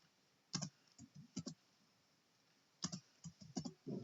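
Computer keyboard keys tapped in short clusters during copy and paste in a spreadsheet, quiet close clicks separated by brief pauses, with no talking.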